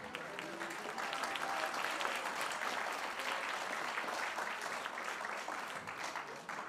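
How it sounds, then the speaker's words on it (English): A seated audience at an evening gathering of the Gendundrupa Buddhist centre in Switzerland applauds with dense, continuous clapping at moderate distance. "merci pour les applaudissements"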